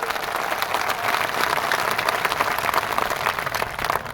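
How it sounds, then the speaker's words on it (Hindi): A rally audience at Dhod loudly applauds to welcome the national president of a political party, a thick continuous wash of crowd clapping that holds steady throughout with little else heard. "बाको जोरदार तालियों से अभिनंदन करो"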